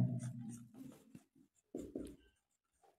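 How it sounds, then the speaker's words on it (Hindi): A teacher writes on a board in a series of close, short scratchy strokes and taps with brief pauses between them, against a quiet room. "यही लिखते हैं"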